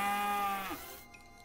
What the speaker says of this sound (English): We hear ominous mooing.